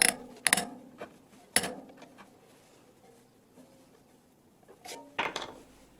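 A wrench works on a bicycle spoke nipple during a hub ball-bearing repair, giving a few sharp metallic clicks and ratcheting taps near the start and again near the end, with quiet handling noise between.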